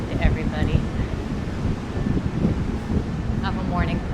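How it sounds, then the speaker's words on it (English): Gusty wind sweeps across an open cruise ship deck at sea, a steady low roar buffeting the microphone throughout while someone talks over it. "Ooh, it's windy."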